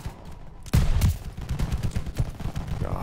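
Gunfire in the World War II shooter Call of Duty WWII: a sudden loud volley of shots followed by rapid, repeated bursts and echoing cracks, continuing busily to the end with no speech.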